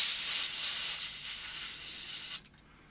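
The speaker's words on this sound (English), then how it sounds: "I'll blow all of this area with some compressed air and then refit it." Compressed air blasts dust out of a Philips V2000 video recorder in a steady, close, loud hiss that stops abruptly near the end, followed by a couple of faint clicks.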